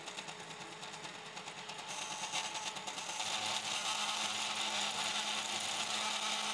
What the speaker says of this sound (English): Backlash in the mechanics leads to audible vibrations, the clear sign of unnecessary wear.